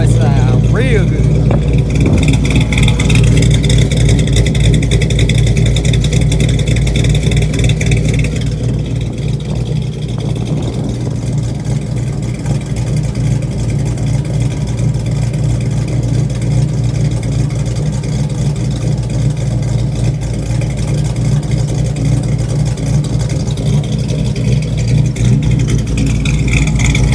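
A carbureted car engine idles with a deep, steady exhaust rumble and occasional revs, loud and close throughout, with no clear talking.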